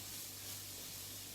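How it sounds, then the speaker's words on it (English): Carrot, red onion and red pepper frying in a pan for chicken pad thai, giving a steady, close hiss of sizzling oil that stays even throughout with no pauses and no talking. "just frying off that carrot, red onion,"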